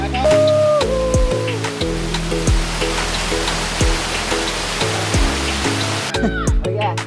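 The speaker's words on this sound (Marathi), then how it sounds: "आता मी चाललो आमच्या इथे वॉटरफॉल आहे" Constant rushing roar of Ozar waterfall in Sindhudurg, loud and close, filling the whole stretch, with a few brief knocks and a faint tonal sound over it.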